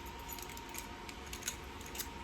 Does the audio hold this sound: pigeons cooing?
no